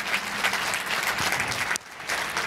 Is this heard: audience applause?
yes